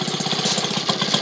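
A Maytag washing machine runs with a steady, rapid chugging pulse from its motor and agitator, loud and close, with no voices over it.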